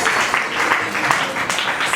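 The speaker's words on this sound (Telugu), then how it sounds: "అందరూ చప్పట్లతో ఆహ్వానించండి" An audience claps to welcome a guest onto the stage at a Brahma Kumaris Nasha Mukt Bharat Abhiyaan event, a dense, close, continuous patter of many hands with a voice speaking over it.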